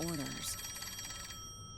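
A telephone rings in the detective video game Master Detective Archives, a brief bright ring burst alongside game music, with a voice speaking at the start.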